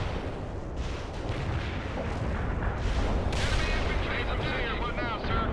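Gunfire and artillery in the real-time strategy game World in Conflict, a steady dense rumble of shots and blasts with brief radio-style voice chatter mixed in.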